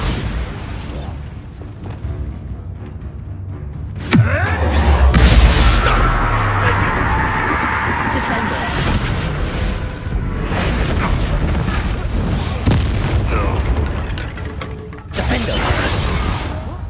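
Confringo and Bombarda spell blasts in Hogwarts Legacy hit as heavy booms and crashing bursts, with one big explosion followed by rumbling debris and further sharp impacts, loud and close.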